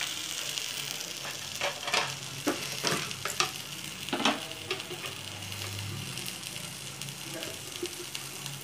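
Okra with gram flour is stir-fried in a pan, with a soft sizzle under repeated scraping and clattering strokes of a spoon, busiest in the first half and then calmer.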